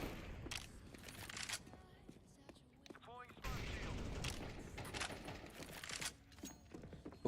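Video game gunfire rattles in rapid bursts with mechanical clicks and clatter, loud and close, pausing briefly midway before resuming.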